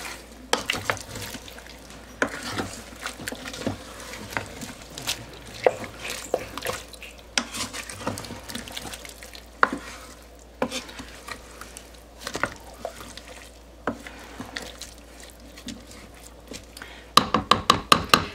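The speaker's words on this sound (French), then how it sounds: "On va mélanger." A pot of chicken and wheat with Spanish spices being mixed, soft scraping and clinking stirs repeating at an uneven rhythm over faint background, with a burst of louder clatter at the very end.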